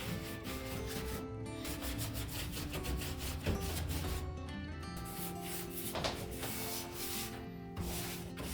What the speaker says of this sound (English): I'm coming back with my rag and just wiping this back